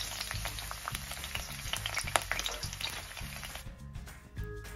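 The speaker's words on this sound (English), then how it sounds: "Fry the garlic until it is slightly golden in color" Garlic frying in oil in a pan sizzles steadily and close, with spatters and light stirring that fade near the end.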